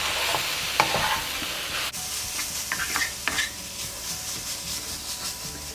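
Paneer bhurji with peas is stirred and mixed in a hot pan, a soft constant sizzle broken by several scraping strokes and light clinks of the spoon against the pan, close by.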